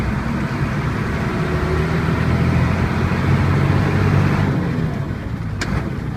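A bus engine drones steadily while the bus is driven and shifted up through the gears, a continuous low rumble with road noise that eases slightly near the end.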